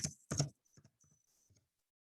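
A few keys are pressed on a computer keyboard to type a command, with two louder taps followed by several softer, quick keystrokes, close and quiet.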